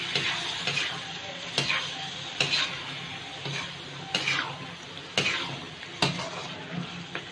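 Beef keema being stir-fried in a karahi, with a spatula scraping and clanking against the pan in repeated strokes over a steady sizzle, close and fairly loud.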